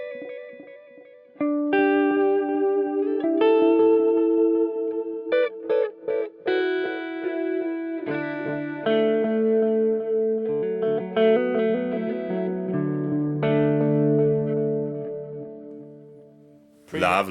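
Erica Synths Echolocator Precision Delay processing a synth: sustained melodic notes with audible delay repeats and washes of echo, loud and continuous throughout, with a brief dip near the end.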